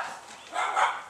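A dog barking at a backyard fence, with two short, yappy barks at moderate distance following a quieter stretch and no talking.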